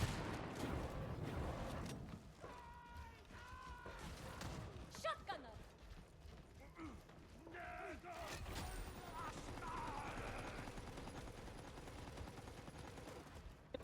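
An enemy gunner firing somewhere in a Darktide mission, muffled bursts of automatic gunfire and scattered impacts, distant and partly masked, with voices talking over much of it.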